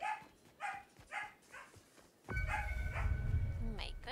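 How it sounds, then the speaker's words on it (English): A dog in a video game gives a few short, evenly spaced yelps, then a loud, dense burst of game noise takes over. "My goodness, puppy."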